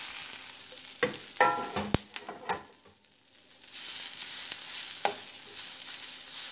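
Dried beef machaca and cooked vegetables fry together in a skillet: a burst of close scraping and clattering stirs, a brief lull, then a steady sizzle returns with one more scrape.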